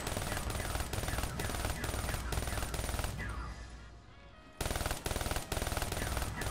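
Rapid automatic gunfire rings out in a zombie shooter video game, loud bursts in quick rhythm that pause for about a second and a half before resuming.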